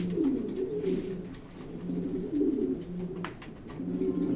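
A racing hen pigeon in a loft gives repeated low, throaty coos in rolling phrases, close and clear, with faint rustling behind and no voices.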